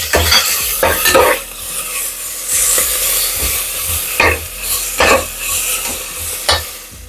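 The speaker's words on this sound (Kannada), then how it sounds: "ಇದಕ್ಕೆ ಅಕ್ಕಿ ಹಾಕಿ ಫ್ರೈ ಮಾಡಿ" Rice being stirred and fried with ginger garlic paste in a pan, a steady sizzle with repeated scraping and clinking strokes of a spoon against the metal, close and continuous, with no talking.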